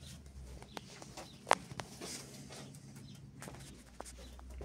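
Faint, scattered pigeon sounds at a live pigeon auction, with a few soft clucks and flutters over low background noise, one brief sharper call standing out.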